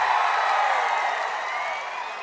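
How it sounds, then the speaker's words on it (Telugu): A large crowd at a political rally in Andhra Pradesh claps and cheers loudly and steadily. The dense applause fades slightly toward the end. "గెలిపిస్తామని గట్టిగా చప్పట్లు కొట్టి"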